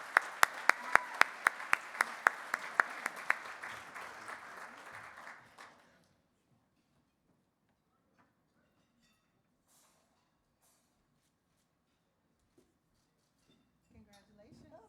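Audience applause at an awards luncheon, loud and close for about six seconds with sharp individual claps standing out, then dying away into near silence with faint room noise and murmuring.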